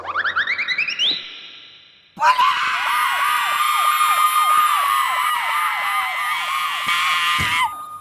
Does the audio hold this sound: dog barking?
no